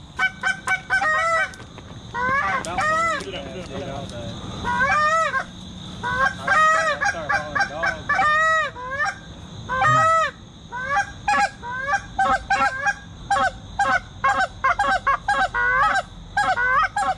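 Geese honk repeatedly in loud, close bursts of overlapping calls during an early-season dry field goose hunt in eastern North Carolina, with brief gaps between volleys.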